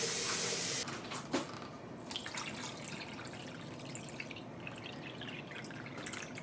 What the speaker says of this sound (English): And this is just cool tap water.